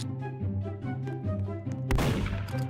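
Gunfire in a video game: a sharp loud shot bursts in after a stretch of droning game music and ambience, followed by noisy rumbling.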